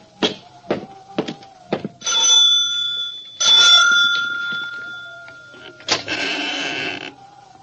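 A house doorbell rings in a large isolated old country house, a chime of sustained tones sounding twice with long ringing decays, preceded by several sharp knocks or thumps.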